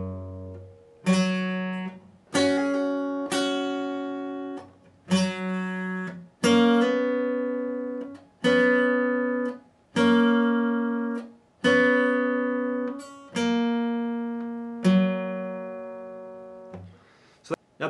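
Guitar playing the third part of a song intro at a slow pace, with about ten separate picked notes and chords, each ringing out and fading before the next in a steady, unhurried rhythm.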